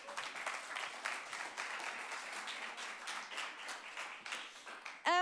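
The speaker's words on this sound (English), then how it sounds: "Applause for Martin." An audience applauds a speaker at a city research event, steady clapping of a modest crowd with individual claps audible, ending in a brief loud burst at the very end.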